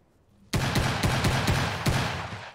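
A Guycot Carbine fires in a Wild West video game, a sudden burst of rapid, sharp shots in quick succession with a dense, rumbling background that holds loud throughout.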